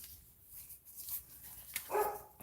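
One short, faint dog bark sounds near the end from somewhere indoors, after quiet room tone and with no one talking.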